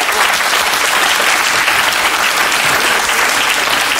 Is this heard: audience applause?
yes